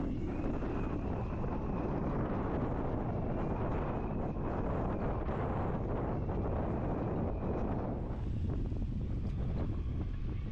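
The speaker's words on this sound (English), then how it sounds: "the wind starts to pick up" Strong 40-knot wind roars steadily around a sailboat at its moorings in Scotland, buffeting the microphone with a constant heavy rumble and no speech.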